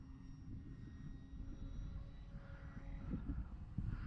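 An FMS Piper J-3 Cub radio-controlled model airplane drones faintly in flight, a steady distant engine whine that swells slightly toward the end, with wind noise in the background.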